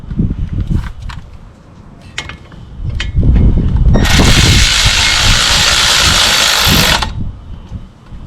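A power tool or impact driver tightens the brake caliper mount bolts on a 2012 Toyota Camry LE, with a loud sustained whirring burst of about three seconds after some quieter clanking handling noises.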